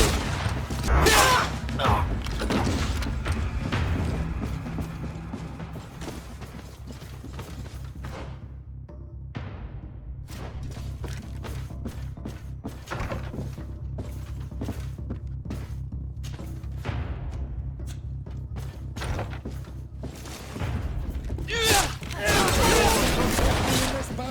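A Greedfall battle with a grenade blast and rapid gunfire: sharp cracks and thuds land in quick, irregular bursts, with a heavy booming burst at the start and another near the end, mixed with voices.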